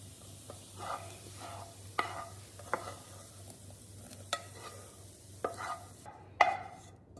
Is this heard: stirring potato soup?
yes